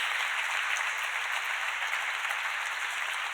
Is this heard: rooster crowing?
no